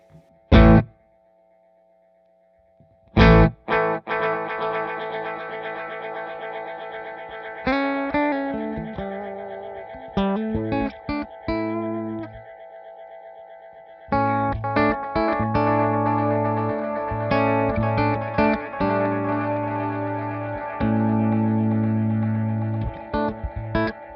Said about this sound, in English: it's a very cool effect if you like that trails thing on top of your reverb and delay